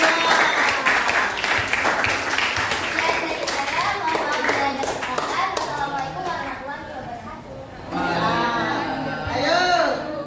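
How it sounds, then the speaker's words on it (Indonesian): A classroom of children claps for a group that has just presented, a lively burst of applause that thins out partway through as children's voices and chatter take over near the end. "Beri tepuk tangan untuk kelompok 2."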